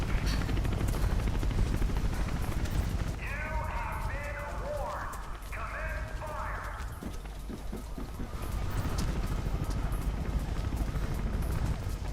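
A helicopter in Mirror's Edge thrums with a steady, loud rotor chop that pulses throughout, layered under game music and ambience with brief radio-style voices in the middle.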